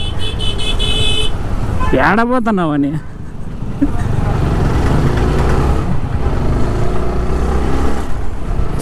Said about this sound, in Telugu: అమ్మయ్య ఈ ట్రాఫిక్లో నుంచి బయటపడే ఇంత టైం పట్టింది